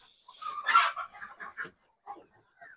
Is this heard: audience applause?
no